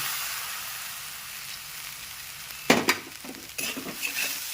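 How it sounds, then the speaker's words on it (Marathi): Nagpuri poha sautéing in a pan: a soft steady sizzle, then several sharp bursts of stirring and scraping against the pan, close and clear. "आणि मस्त असे पोहे त्या ठिकाणी परतून घ्यायचे आहेत चांगले"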